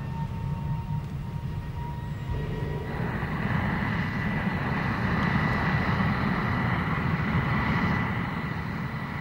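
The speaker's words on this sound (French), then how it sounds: "l'avion piloté par Smith s'élève dans le ciel" A Short SC-1 vertical take-off aircraft, driven by its single horizontal propulsion engine, makes a sustained loud roar that thickens and rises in pitch as it climbs away, with a steady tonal whine above the rumble.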